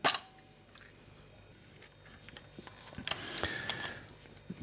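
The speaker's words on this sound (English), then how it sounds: "Open the back of the camera." A film camera's back door clicks open, a sharp snap at the start followed by a few small mechanical clicks and handling rattles, close and fairly quiet.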